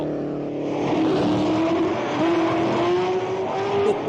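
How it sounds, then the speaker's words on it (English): Vintage race cars at the 1962 Monaco Grand Prix roar along tight city-street circuits, engines screaming loudly with rising pitch as they pass, a continuous close racing drone without speech. "The car was roaring."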